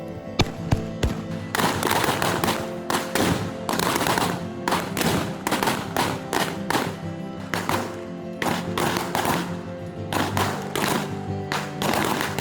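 Gunfire in a Civil War-era western raid, with dense bursts of rapid, close, loud shots cracking in irregular clusters, overlapping one another across a battle din with some dull thumps between.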